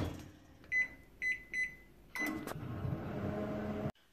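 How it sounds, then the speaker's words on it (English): A microwave oven set to heat a cauliflower and leek stew: three short keypad beeps, then the start tone and a steady hum as it runs, ending abruptly, quiet and close. "I'm just going to microwave it"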